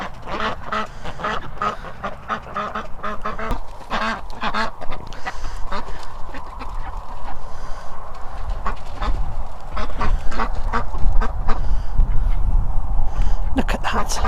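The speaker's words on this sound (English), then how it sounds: "Look at that, my poor starving ducks." Ducks quack repeatedly in a busy, close cluster, with a person talking over the flock throughout.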